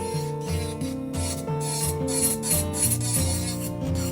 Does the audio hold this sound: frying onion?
no